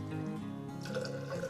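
Hot water poured into a stein for stripping paint off a 1956 Vauxhall Cresta Matchbox model, a close, soft splashing and trickling pour that builds toward the end, with no talk.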